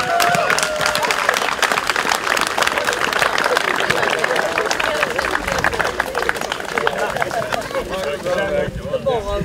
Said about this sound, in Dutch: Ik vind dit een groot applaus waard.